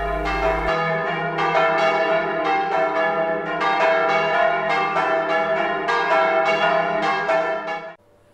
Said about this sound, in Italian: il suono grazie al concerto delle campane suonate a festa dai campanari